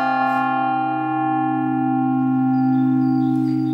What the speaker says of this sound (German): kann die Glocke zum Beispiel ganz einfach mit einem Gummihammer angeschlagen werden